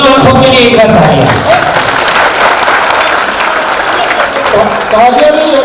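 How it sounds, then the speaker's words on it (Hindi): Loud audience clapping at a Hindi stage play in Jamshedpur, a dense, continuous wash of applause with voices calling out and talk running over it. "दोनों आंखों के लिए एक बार तालियां"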